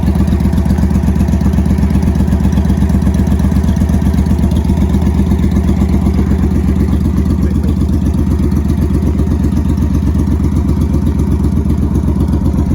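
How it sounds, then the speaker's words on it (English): A Triumph America motorcycle fitted with Speedmaster slip-on exhausts runs steadily at close range, its loud, deep, throbbing engine note continuous throughout with no talk over it. "just going to fire his bike up"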